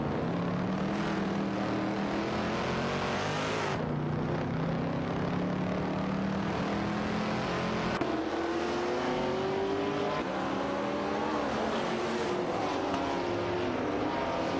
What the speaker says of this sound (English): The Ford GT40 MP battles it out with the Porsche 982 Spider for the 23rd position.